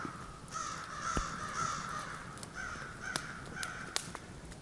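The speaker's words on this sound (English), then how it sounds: "You hear my crow friends over there?" Several crows caw from a distance, harsh repeated calls over a soft outdoor hiss, with a few sharp clicks in between.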